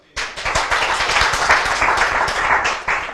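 A crowd at a Master Cross motocross event in Brugherio breaks into lively applause, with distinct sharp claps over a steady clapping texture for a few seconds.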